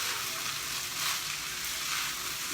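Jaggery rice (gur ke chawal) roasts in a pan with a steady, close sizzling and crackling hiss that holds evenly throughout, with no voices.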